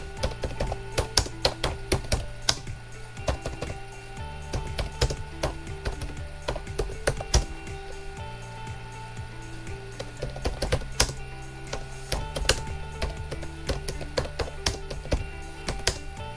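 Steady typing on a computer keyboard while an address is entered into a form: rapid, close clicky keystrokes in irregular bursts with short pauses, running throughout with no talking.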